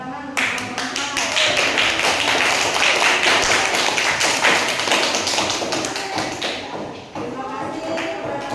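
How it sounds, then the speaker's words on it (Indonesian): A classroom of students claps for a presenting group, a dense, continuous patter of hand claps close by that holds steady for several seconds, with some voices underneath. "Tepuk tangan untuk kelompok 4."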